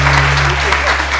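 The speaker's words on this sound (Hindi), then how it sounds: "यार फरीदा के लिए तालियां तो बजाएं" Studio audience on a televised Pakistani morning show applauding for a guest named Farida, steady dense clapping filling the whole moment at close, loud level, with a host's voice faintly underneath.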